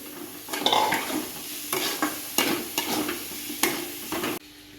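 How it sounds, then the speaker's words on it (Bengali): Onions frying in a pan over a flame for Bengali doi chicken, with a steady close sizzle broken by several scraping stirs at a fairly even pace, and no voices. "পেঁয়াজটা দিয়ে পেঁয়াজটা লাল লাল করে ভেজে নেব"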